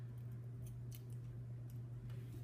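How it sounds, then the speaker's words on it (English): Scissors snip washi tape in a few quiet, crisp cuts over a low steady electrical hum. "And so then I take my scissors and I just kind of line it up."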